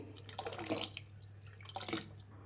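Water poured into a pot of Mysore thili saar, a thin South Indian rasam, with soft splashing and dripping in short bursts over a steady low hum, fairly quiet and with no talking.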